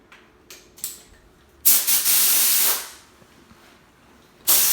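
A paint spray gun spraying a BMW E92 wheel arch: short hissing bursts of spray, then a sustained blast of about a second, followed by quiet and another burst at the end.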